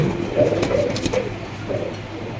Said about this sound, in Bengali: একজোড়া ইয়েলো কালার, মানে হলুদ বারহমা কবুতর।